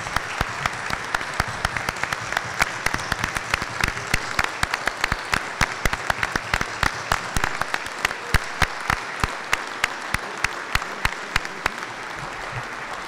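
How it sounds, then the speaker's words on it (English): A town meeting audience gives a standing ovation, many hands clapping in a steady, sustained patter with sharp individual claps standing out, continuing for over ten seconds at moderate volume. "You certainly deserve a standing ovation."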